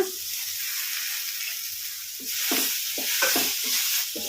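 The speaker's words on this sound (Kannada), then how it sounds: "ಈಗ ಇದಕ್ಕೆ ನಾವು ಫ್ರೈ ಮಾಡಿ ಇಟ್ಕೊಂಡಿರೋ ಹಸಿಮೆಣ್ಸಿನ್ಕಾಯಿ ಹಾಕೋಣ ಹಾಗೇ ಬೆಂಡೆಕಾಯಿ ಹಾಕೋಣ" Okra and green chillies sizzle and fry in oil with garlic and curry leaves, a steady hiss throughout that grows louder midway, with short stirring clatters from the pan and no talking.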